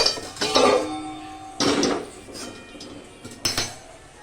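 A metal wok is set on a gas stove in a home kitchen, giving a few sharp metallic clanks and rattles spaced a second or two apart, with quiet between them.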